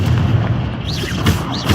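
Incendio fire spell cast in the Hogwarts Legacy video game, a deep booming burst that rolls on briefly with a whooshing, sweeping tone over it, loud and close.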